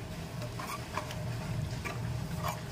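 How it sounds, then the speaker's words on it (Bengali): Fish curry masala with water is stirred in a pan for a mild-fish and eggplant curry, a soft continuous wet scraping with faint periodic swishes over a low, steady background. "নেড়ে চেড়ে মিশিয়ে নিলাম।"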